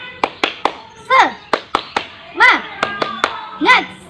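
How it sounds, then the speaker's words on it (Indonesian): Group of children doing a rhythmic spirit clap in a classroom, sharp clustered handclaps in a quick patterned beat, with children's voices chanting between the claps. "Tepuk semangat."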